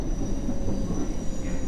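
An old London Underground train runs on the Circle Line in the World of Subways simulation, giving a steady, close rumble with a thin high whine held throughout.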